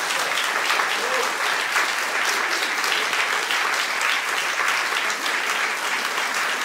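A theatre audience applauds after an amateur troupe's Goldoni performance, giving a dense, steady wash of clapping that stays loud and even throughout.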